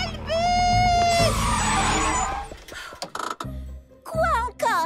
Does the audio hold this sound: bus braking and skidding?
yes